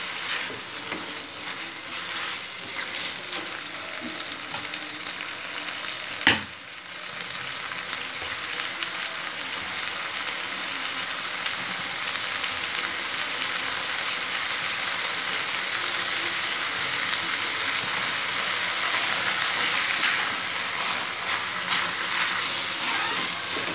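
Pea curry sizzles and fries steadily in a pan as the spiced mixture is sautéed, a continuous broadband crackle with one sharp clack near the start, no voices.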